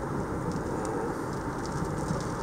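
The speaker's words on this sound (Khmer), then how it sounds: "វ៉ាវនេះភ្លៀងខ្លាំងក្រាន់បើ" Heavy rain falls in a dense, steady wash of noise with a low rumbling undertone, constant and unbroken throughout, fairly close and without voices.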